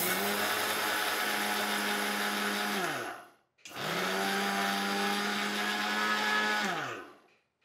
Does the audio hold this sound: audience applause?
no